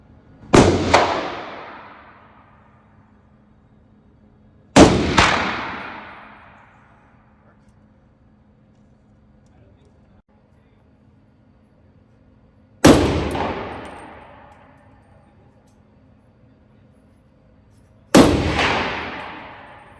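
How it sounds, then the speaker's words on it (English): Romanian MD65 underfolder AK rifle test fired after a parts-kit build, four single loud cracks spaced several seconds apart, each with a ringing echo that fades out between shots. "Completed. Ready for a test fire."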